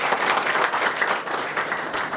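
Audience applause at a Marathi public lecture, a dense continuous wash of many hands clapping, loud and steady throughout with no speech over it.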